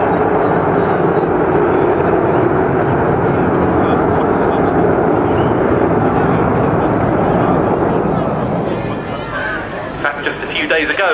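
Avro Vulcan B2 bomber XH-558, a delta-wing jet, flying at an airshow, its engines producing a loud, sustained roar that fades slightly near the end.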